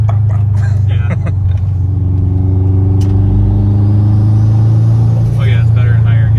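A 600hp car's engine pulls through the higher gears while cruising on the highway. The low, steady drone sits close and loud throughout the clip, with voices talking over it.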